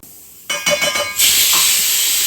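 A pressure cooker holding curry lets out a few short bursts of hiss, then a loud, steady jet of steam that rushes on without letting up.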